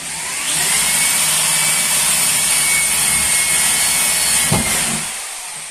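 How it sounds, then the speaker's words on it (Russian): Drill boring a hole into an old creaky wooden floor, a steady loud high-pitched whine spinning up, holding for several seconds, then winding down. "Сверлим в полу,"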